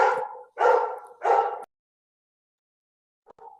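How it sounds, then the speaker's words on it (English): Three loud, close dog barks in quick succession, followed after a pause by a couple of faint, short yips at the end, with no talk over them. "Sorry about the dogs."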